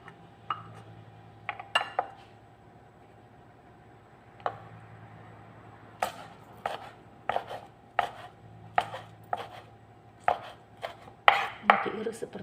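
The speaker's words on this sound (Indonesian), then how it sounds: "Kemudian cabenya kita iris ya teman-teman." A knife slicing chili peppers on a cutting board, irregular crisp taps that come sparse at first and then in quicker runs, close and dry with a faint background hum.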